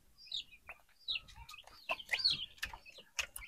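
Kuntara chickens cluck and chirp at close range in a coop, giving a quiet, irregular string of short calls and squawks with small shuffling noises between them.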